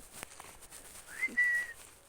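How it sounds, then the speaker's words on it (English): A person whistles a short rising-and-level tune, close and fairly soft, against quiet background hiss. "if it happens, it'll happen while I'm whistling"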